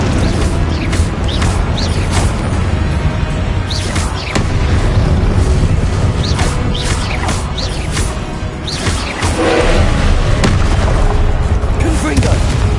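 Rapid series of Confringo blasting spell explosions in the Hogwarts Legacy video game, loud booming bursts firing one after another like a barrage across several seconds, with voices and battle noise underneath throughout.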